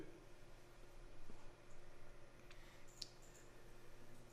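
A single faint computer mouse click during Adobe InDesign layout work, a brief tick under a quiet background hum.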